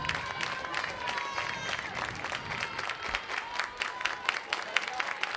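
Spectators at a college softball game between Arkansas and Mississippi State applaud in a scattered, steady clatter of claps that rises slightly toward the end, with voices talking underneath.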